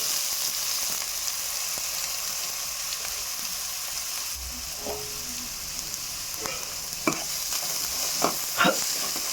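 Chopped onions and green chillies frying in hot oil, a continuous bright sizzle broken near the end by several small pops and clicks of a utensil, heard up close with no talking.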